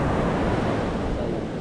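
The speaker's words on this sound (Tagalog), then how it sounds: "lakas ang alon" Ocean surf roars steadily, a dense rushing wash of breaking waves filling the whole clip, with no voices.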